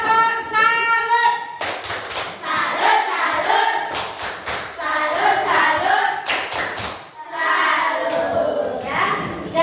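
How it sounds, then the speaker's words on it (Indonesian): A primary school class claps a rhythmic salute, with sharp group clap bursts in patterned sequences between a teacher's voice and children's chatter. "Kita tepuk tangan untuk kita semua."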